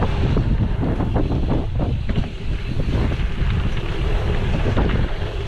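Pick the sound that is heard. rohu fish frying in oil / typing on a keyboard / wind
wind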